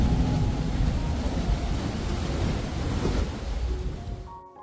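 Waves surge and crash continuously against a rocky ledge on the Algarve coast of Portugal, a broad roaring wash with some wind buffeting, fading away at the end.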